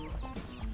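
Chickens, some with bald heads, clucking in short, close, soft bursts, with a few overlapping calls in quick succession.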